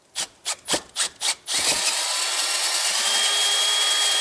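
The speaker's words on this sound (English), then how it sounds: "I'm going to take the drill bit and run it straight through" A few short taps are followed by a steady, loud drill grinding through wood, its high whine holding without a break to the end.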